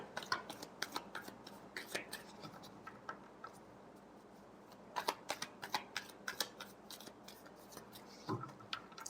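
Tarot cards being shuffled close up, a quiet run of soft flicks and riffling taps in uneven bursts, with no talking.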